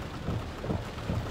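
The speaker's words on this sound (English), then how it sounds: "Just can't see nothing with all the rain." Heavy rain pounding steadily during a tornado-warned storm chase near Fort Smith, Arkansas, a dense, loud wash of noise with low rumbling swells, no voices.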